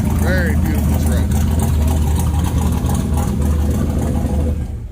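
A steady, loud idle comes from an LS-swapped 1983 K10 pickup, about 700 hp with Edelbrock engine control. The low drone holds even throughout, a short high chirp sounds at the start, and it fades slightly at the very end.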